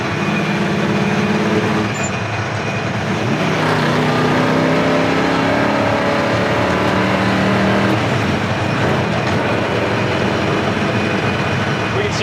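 Steady loud roar of a 1969 GMC K1500 pickup truck cruising at about 70 mph on the highway, engine drone and wind rushing continuously throughout.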